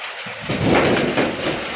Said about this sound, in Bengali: এই দেখো, সেটা ফোটা বৃষ্টি শুরু হয়েছে